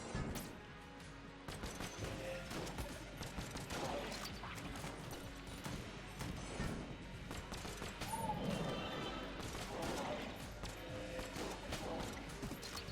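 Rapid bursts of gunfire and bullet impacts from Enter the Gungeon crackle over game music and effects, a dense, busy stream of sharp hits at moderate loudness.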